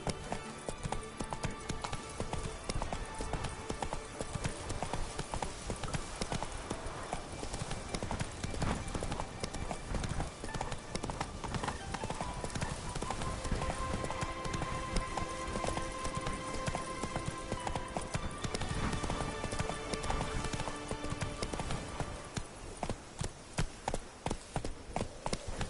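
Horse hooves clip-clop continuously in The Witcher 3 video game, a brisk steady trotting rhythm of sharp taps with faint background game ambience throughout.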